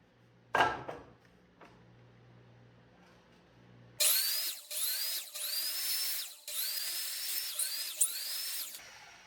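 A hand saw cuts into scrap wood for a DIY build. After a couple of faint knocks, steady back-and-forth rasping strokes start and repeat at an even rhythm, close and fairly loud.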